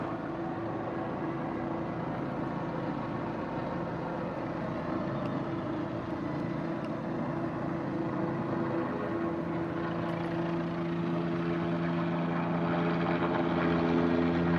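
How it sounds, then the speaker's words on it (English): A steady, loud roar of airplanes landing nearby, holding constant with a slight swell toward the end and no talking. "And there's some airplanes landing right over there."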